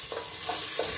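Carrot frying in olive oil over a heater makes a steady, fairly quiet hiss of sizzling oil, broken by three soft stirring scrapes spaced evenly through the moment.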